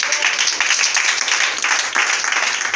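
A church congregation applauding to acclaim the Lord, with steady, full clapping from many hands that continues throughout.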